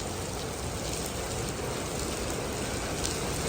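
Steady rain pours down outdoors at a Thai market, a dense, even hiss of falling water filling the whole stretch without pause, close and fairly loud with no voices.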